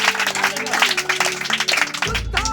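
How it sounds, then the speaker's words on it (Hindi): Students in an online class event applaud the top 10 with loud, dense clapping mixed with tonal background music and voices, with a low thump near the end. "एक बार जोरदार तालियां हो जाए।"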